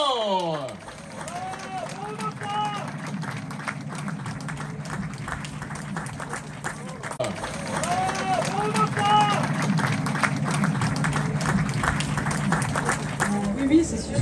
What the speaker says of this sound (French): Je vous demande de les applaudir encore plus fort.